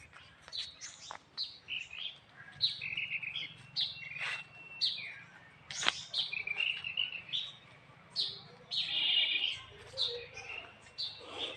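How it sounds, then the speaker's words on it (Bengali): Several birds call and chirp in a quiet, secluded jungle, with repeated short tweets and trills, some near and some farther off, over a low background rumble. "এই যে পাখির ডাক শুনতে পারতেছেন"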